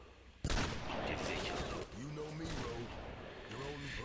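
Gunfire in the Rogue Trooper video game: a sudden loud burst of shots followed by sustained rattling fire, with someone speaking over it.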